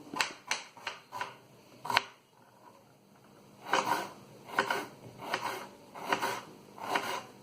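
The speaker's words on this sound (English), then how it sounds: "So I'll chop some onions again" Knife chopping onions on a board: a quick burst of sharp, close taps, a short pause, then a steadier run of broader chopping strokes at an even rhythm, with no voices.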